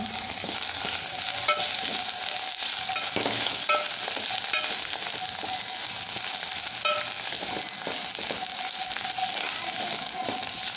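Garam masala, turmeric and red chili powder frying in oil over a low flame, a continuous bright sizzle with occasional light clinks of stirring, close and steady with no talk.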